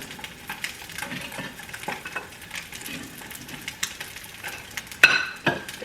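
Bacon fries in a pan with a continuous crackling sizzle, broken by scraping stirs and utensil clicks against the pan, closing with a sharper clatter near the end.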